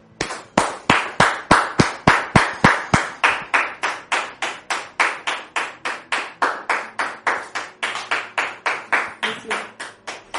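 A TV studio audience claps in unison to welcome a guest onto a family-dispute talk show, a steady rhythmic beat of about three claps per second that runs for ten seconds.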